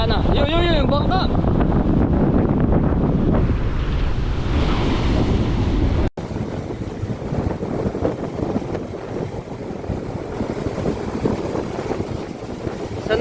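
Large, powerful sea waves roll in at a beach under strong, gusting wind that buffets the microphone, a loud continuous roar with people talking and shouting over it.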